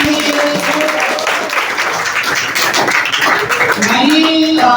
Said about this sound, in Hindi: एक बार भरपूर तालियां तमाम स्टूडेंट्स के लिए जो स्टेज पर आ रहे हैं